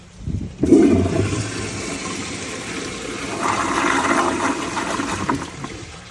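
A 1978 American Standard Glenco toilet flushes with a sudden loud gush of water, then a steady rushing swirl that swells again briefly before tapering off, heard alone at close range.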